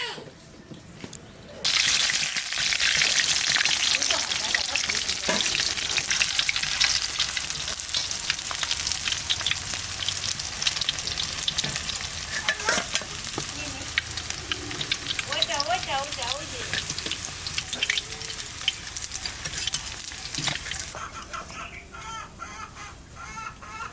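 Chital and bhetki fish fry in oil in a big wok, a loud, steady crackling sizzle that goes on for a long stretch, with a rooster clucking nearby in the background.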